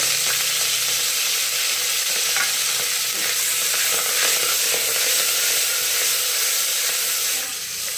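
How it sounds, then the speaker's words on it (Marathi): Mustard seeds, cumin and curry leaves sizzle in hot tempering oil with a loud, steady crackling hiss and occasional stirring, close and continuous without speech. "आता मोहरी टाकलेली आहे आता जिरे टाकते त्यानंतर हा कढीपत्ता कोथिंबीर"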